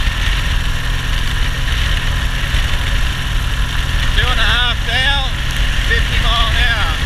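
A Triumph Bonneville motorcycle with a four-speed gearbox runs with a steady low engine drone, close and loud, while someone speaks briefly over it near the end.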